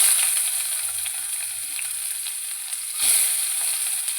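Onion sizzles in hot oil with mustard seeds and green chili in a pan, a close, steady loud frying hiss with a brief surge of crackle as more goes in or gets stirred.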